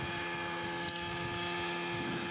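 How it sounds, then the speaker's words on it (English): An autonomous, computer-controlled helicopter flies aerobatic stunt maneuvers, producing a steady, droning rotor and engine hum that holds evenly throughout. "Let me show you just one video of one of the aerobatic stunt maneuvers that we flew on this helicopter."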